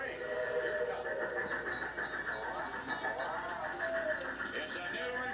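A stage prop train rolls onto a 1980s Price is Right game show set, a steady rumbling, clattering rail-like sound heard throughout amid studio voices.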